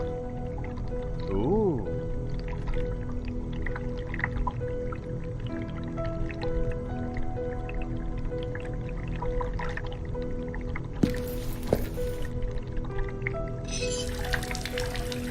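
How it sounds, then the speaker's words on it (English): Running water in the horror video game Asylum trickles and drips steadily under a low ambient drone, with a brief exclamation from a voice and a couple of sharp splashy bursts near the end. "Why is there such a big sound of water running"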